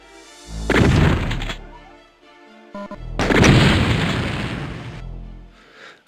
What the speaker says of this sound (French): il y en a un qui me tire dessus